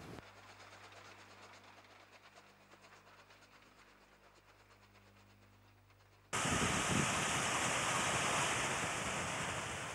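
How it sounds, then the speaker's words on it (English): Steam locomotives 1709 and 1243 haul a vintage train across the Macquarie River Bridge at Bathurst, New South Wales; a quieter distant rumble gives way abruptly to loud, close, continuous rolling noise. "1709 and 1243 head the down vintage train across the Macquarie River Bridge at Bathurst"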